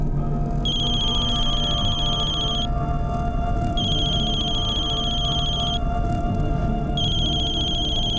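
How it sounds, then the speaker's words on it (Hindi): A telephone rings unanswered, a repeating electronic bell tone sounding in regular bursts with short gaps between them, steady and moderately loud over a quiet room. "बेल तो जा रही है लेकिन फोन नहीं उठा रही है"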